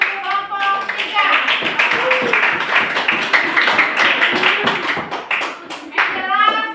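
An audience claps for a presentation group at a teacher training session, steady dense clapping throughout, with voices briefly audible at the start and end.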